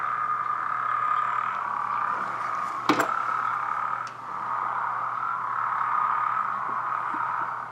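A narrow-mouthed toad calls steadily in a group, a continuous droning chorus at moderate distance, interrupted briefly by a sharp knock or click.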